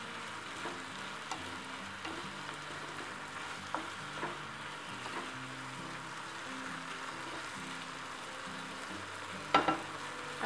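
Shrimp fry in a hot pan with a steady, close sizzle while a utensil stirs and scrapes through them, occasional light clinks punctuating the continuous crackle.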